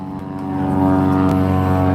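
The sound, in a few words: aircraft engine powering up at an air show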